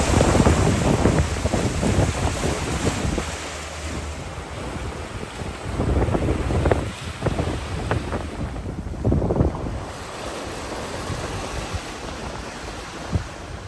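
Sailboat crossing from Cape Verde toward Martinique under mainsail and genoa, with continuous rushing wind across the microphone and surging waves washing along the hull, loud and close throughout.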